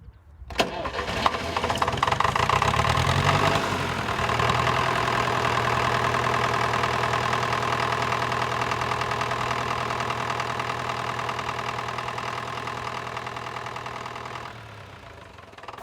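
An old farm tractor from the mid-1950s in the Capcir highlands of the Pyrenees cranks and catches, then settles into a loud, steady, close mechanical running note that holds for about ten seconds before easing off.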